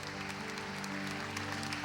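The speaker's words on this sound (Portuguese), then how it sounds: "Vamos aplaudir o sacerdote." Faint, distant clapping from an audience at a lecture greets a Catholic priest entering, heard over a steady low tonal hum for just under two seconds.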